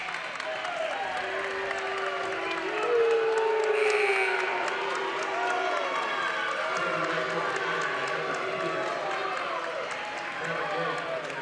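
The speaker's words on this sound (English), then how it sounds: "The Fairland crowd not happy with that call." Home crowd at a Fairland versus Jackson high school basketball game roaring in protest at a referee's call, a sustained swell of voices that peaks briefly, with court sounds and a whistle-like tone mixed in.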